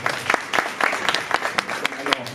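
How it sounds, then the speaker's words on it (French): A small audience at an exhibition talk applauds a guest speaker with distinct, uneven handclaps from a modest group, close and moderately loud. "Bah merci beaucoup Lionel, je pense qu'on peut l'applaudir."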